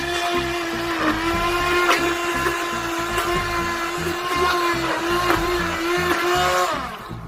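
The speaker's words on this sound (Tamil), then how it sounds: "பீட்ரு வச்சு நம்ம அடிச்சுக்கலாம்." An electric hand beater whirs with a steady high motor whine while beating a milk pudding mixture, running continuously near the mic before winding down at the end over a low rhythmic backing.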